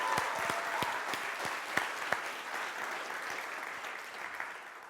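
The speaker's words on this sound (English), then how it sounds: "can we get a quick round of applause for all the organizers who have done such a great job with this event?" An audience at a Node.js tech conference claps for the event organizers, sustained dense applause from a crowd with a few sharp nearby claps, gradually tapering off.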